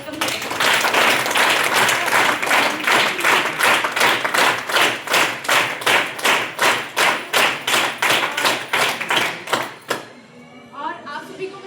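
An audience at a motivational gathering claps together to welcome new guests and leaders, a loud, rhythmic burst of applause with steady beats that stops abruptly near the end.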